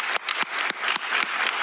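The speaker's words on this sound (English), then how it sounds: "how about a quick round of applause for all the presenters?" Conference audience giving a short round of applause for session presenters, brisk overlapping claps at a moderate level, brief and unaccompanied by talk.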